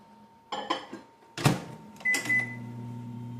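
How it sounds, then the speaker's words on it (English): A door clunk and a few beeps, then a microwave oven heating 1½ cups of water starts running with a steady low electrical hum. "take our 1½ cups of water and microwave it till it's piping hot"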